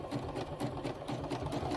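Sewing machine stitching coiled rope into a square rope bowl, a steady fast mechanical chatter with rapid even needle strokes, close and continuous with no voice.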